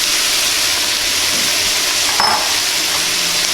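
Onions and mushrooms dropped into a hot pan for oxtail gravy hiss into a loud, steady sizzle up close, with a brief scrape of stirring midway.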